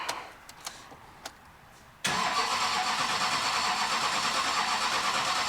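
A 6.6 Duramax diesel swapped into a Jeep Wrangler sits silent apart from a few faint clicks, then abruptly catches and settles into a loud, steady, close-up running roar.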